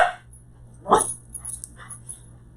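A dog barks once at mid-distance, a single sharp burst over a quiet low hum, followed by faint scattered noises and no talking.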